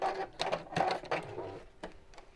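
A sewing machine stitches through thick quilted wadding on a heart applique pouch, whirring in uneven surges that speed up and slow down, close and loud with a rattling mechanical edge.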